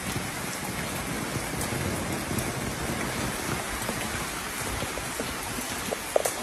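Heavy typhoon rain pours down steadily in Isabela, a dense close hiss of drops drumming on surfaces, with a few sharper splashes near the end.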